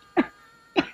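Two short, sharp coughs from a man in a comedy scene, close and distinct, the second about half a second after the first, with near silence around them.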